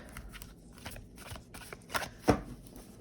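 Tarot cards being shuffled close by, a series of soft riffling flicks ending in a couple of sharper snaps, with no talking.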